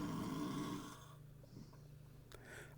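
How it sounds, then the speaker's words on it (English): A person asleep snores faintly, a single long rough inhaled snore fading away, followed by quiet low background noise. "Do I hear snoring?"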